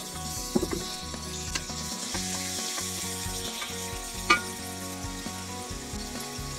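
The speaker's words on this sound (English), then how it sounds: "Next, cook the meat. Be sure that you have it spread across the pan" Beef pieces for a stroganoff sizzle and brown in a hot pan, a steady close frying hiss with a few sharp clicks and clanks of a utensil.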